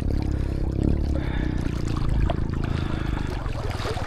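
A river at a nature park campsite in Zambales flows with a continuous close trickling and gurgling rush, steady and fairly loud throughout, with no voices.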